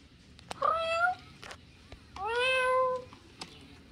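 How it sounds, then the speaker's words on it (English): A lifelike toy cat gives two drawn-out meows, close and clear, separated by a short pause, with soft clicks in between and no talk. "Meow. Good kitty."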